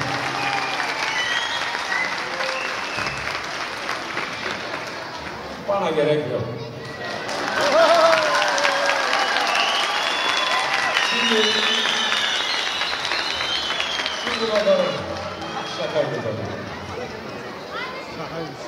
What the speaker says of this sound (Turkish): kurtuluşa kocaman bir alkış ve ritimle Aydın'a kocaman bir alkış istiyoruz